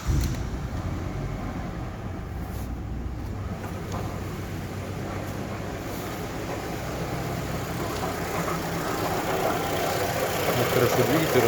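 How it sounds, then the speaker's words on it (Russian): Close up, a Mitsubishi Lancer 10 engine idles steadily with a faint crunching knock from a worn water pump, a dense continuous mechanical hum that grows slightly louder toward the end. "Стук в двигателе. Хруст, стук."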